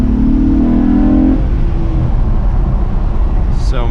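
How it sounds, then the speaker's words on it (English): Acura TL, fourth generation, with an aftermarket intake, revving loudly up through VTEC engagement with a rising engine tone, then settling into a steady idle rumble with a brief higher whine near the end. "So you can hear VTEC engage like that."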